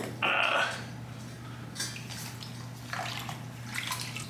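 Water splashes as an exhaust header wrap is dunked into a bucket, followed by dripping and sloshing over a low steady hum.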